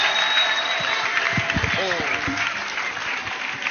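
A church audience claps at a worship gathering, a sustained, even wash of applause with a voice briefly speaking over it midway.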